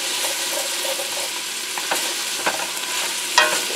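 Food frying in a pan on a weeknight stovetop, a continuous close sizzle broken by several scraping, clattering stirs of a utensil, the sharpest near the end.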